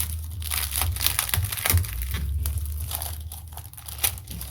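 A plastic packet of rub-on transfers crinkles and rustles steadily in the hands, close and fairly loud, with a few sharper crackles, and no one speaks.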